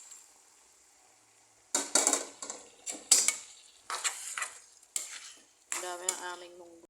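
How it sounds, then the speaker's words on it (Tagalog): Mung beans tumble into a cooking pot holding chicken cubes, giving a run of close, sharp rattling and clattering bursts with scraping, metallic stirring sounds in between, over a quiet background with no talk. "Lagyan na natin yung ating munggo."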